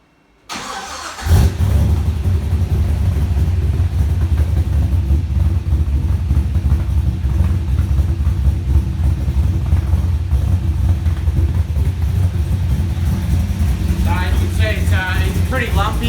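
A GM Motorsport 383 stroker V8 in a VY SS with a six-speed manual and built cathedral camshaft cranks and fires about a second in, then settles into a loud, steady, lumpy idle that runs to the end.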